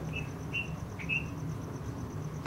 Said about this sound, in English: the bird wants to say something. Let's all listen to the bird.